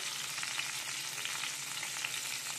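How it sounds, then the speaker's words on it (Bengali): Pabda fish fry in hot oil, a steady, fairly quiet bubbling sizzle with no voices. "আর বাকি থাকা পার্শ্বগুলোকে ভেজে নিই।"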